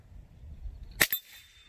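A live round fired during an ammunition power test gives one sharp, loud crack with a brief second burst and a short ringing tail, after a low background murmur.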